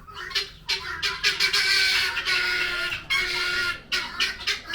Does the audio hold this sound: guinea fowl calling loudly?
yes